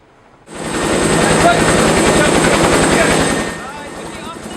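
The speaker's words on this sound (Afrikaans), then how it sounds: "Die Russiese Kamov helikopter kan net in mooi weer vlieg" A Russian Kamov helicopter flies close by, its loud, steady rotor thump and turbine whine starting suddenly and holding strong before easing slightly toward the end.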